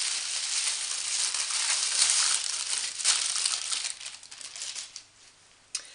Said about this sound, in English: which I will unwrap for you now